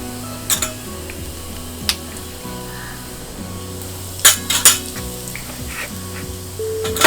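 Cumin seeds and asafoetida sizzling in hot oil in a home kitchen pan, a steady soft frying hiss under a low hum, broken by a few sharp clinks of a spoon against the pan.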